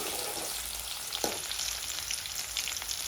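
Chopped spring onion frying in a pan over a low gas flame, giving a steady, even sizzle throughout with one brief scrape of stirring partway through.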